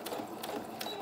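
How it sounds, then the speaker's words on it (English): Domestic sewing machine backstitching over an earlier line of stitching, giving a close, steady mechanical whir with a few louder rhythmic bursts over about a second, no voices. "I'm just going to backstitch a bit where I'd done that on the first way round"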